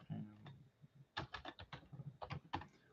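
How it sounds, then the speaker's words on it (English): Rapid typing on a computer keyboard, close and fairly quiet, with a few isolated taps followed by a dense burst of clicking keystrokes. "I'm going to type it."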